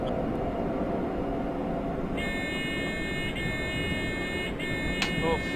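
A PZB train safety system alarm chiming in a cab of an MRCE ES64U2 locomotive in Train Simulator 2015, a steady multi-tone electronic beep pulsing over a constant loud rumble of running.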